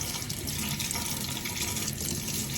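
Warm tap water runs steadily into a sink while a paintbrush is rinsed clean of paint, a continuous close splashing stream with no talk.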